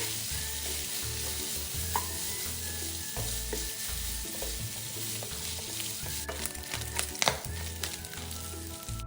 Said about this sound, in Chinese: 煸至五花肉溢出油分